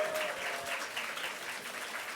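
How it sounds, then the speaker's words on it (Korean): A congregation at a Sunday church service claps in a steady, even patter of many hands, moderately distant and holding evenly throughout, with no voices over it. "우리 정식 형제를 보내준 여러분 모두에게 박수를 드리는 바입니다"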